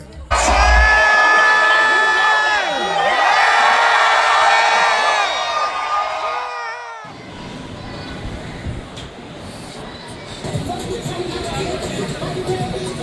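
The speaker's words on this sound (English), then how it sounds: "We wrapped up our night at the Misbehave show with a good old-fashioned screaming competition." A cruise ship show audience holds a screaming competition: loud, sustained high screams from several voices for about seven seconds, followed by crowd cheering and chatter.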